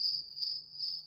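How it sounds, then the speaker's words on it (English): A cricket chirping sound effect plays alone as a steady, high, continuous trill with gentle pulsing swells, fairly quiet and unbroken for about a second. "I don't want to hear any crickets."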